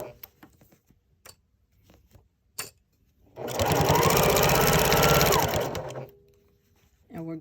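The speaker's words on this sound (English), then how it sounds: "turn, and then sew across the bottom hem" A sewing machine stitches across the bottom hem of upcycled jeans in one steady burst of rapid needle clatter lasting a few seconds, framed by quiet handling clicks and small fabric movements before and after.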